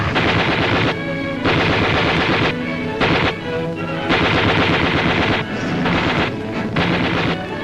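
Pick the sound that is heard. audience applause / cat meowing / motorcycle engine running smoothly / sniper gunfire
sniper gunfire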